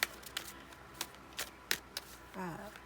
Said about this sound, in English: feel free to fast forward through the shuffling if you want to